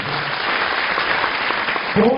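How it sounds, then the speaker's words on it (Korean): Applause from the audience at a university entrance ceremony and orientation, a dense, even clapping sustained from start to finish as a department representative comes forward, with a brief voice near the end. "큰 박수 부탁드립니다."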